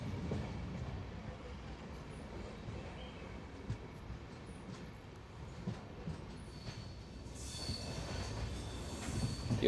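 Matsyagandha Express LHB train rolling onto the main line after leaving Udupi station, a steady low rumble of wheels and carriage noise heard from inside, with faint clatter and a rising hiss near the end.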